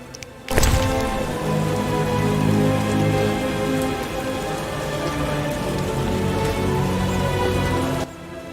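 A heavy rain downpour in The Witcher PC game starts abruptly and hisses loudly and steadily, with dense drops drumming on surfaces before cutting off near the end.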